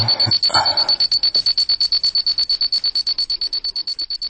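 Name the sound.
alarm clock ringing in the dark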